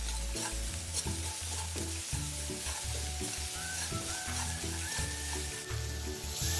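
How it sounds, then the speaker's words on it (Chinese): Crushed coconut sugar being stir-fried with chili paste in a pan for Indian rojak sauce, giving a steady loud sizzle with repeated scraping stirs throughout, no voices. "50克椰糖击碎后加入，稍微拌炒一会"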